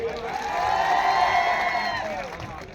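Crowd at an Aam Aadmi Party political gathering in Katvara welcoming a Gujarat youth wing leader, a swelling wash of cheering and clapping that rises, holds, then slowly fades, with a tonal voice-like ringing through it.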